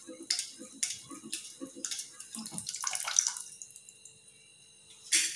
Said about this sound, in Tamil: இப்போ இந்த கம்பு வந்துட்டு இந்த மாதிரி அரிச்சு எடுத்துக்கலாங்க.